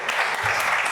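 Crowd applause at the launch event of a charity hub, a dense, steady wash of many hands clapping close and loud for the full second, with no voices over it.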